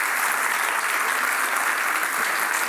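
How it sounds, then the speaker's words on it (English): A lecture audience at a talk on the science of gambling gives a round of applause for a volunteer named Steve, a dense, even burst of clapping filling the whole few seconds without voices. "round of applause for Steve, ladies and gentlemen"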